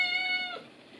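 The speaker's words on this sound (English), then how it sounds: "Are you going to meow?" A house cat gives a single drawn-out meow in a home kitchen, a clear harmonic cry lasting about half a second before fading into quiet room noise.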